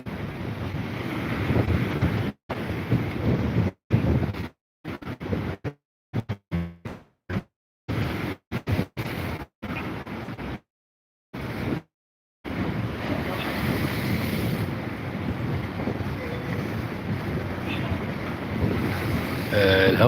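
Sea waves and wind on a beach, a loud roar of surf and gusting wind buffeting the microphone, repeatedly cut by brief dropouts in the first half, then a steady wash.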